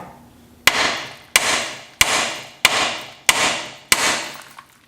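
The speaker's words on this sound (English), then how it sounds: "You give these knuckles a quick hit right here on the end of the joint right there" A hammer strikes a truck's steering knuckle at the tie rod joint to free a tapered fit, six sharp metallic blows spaced evenly about two-thirds of a second apart, each ringing briefly and fading, close and loud.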